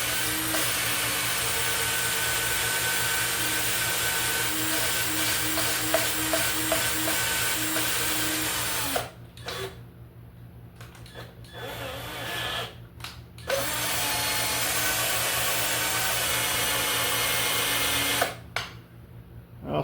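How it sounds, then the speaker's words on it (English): A valve being hand-lapped with grinding compound in a Ford E7 small block cylinder head, a steady gritty rotational scrubbing that runs continuously, pausing briefly twice as the valve is lifted, with no talking. "I'm just going to spin this valve, putting a little pressure on it with my finger"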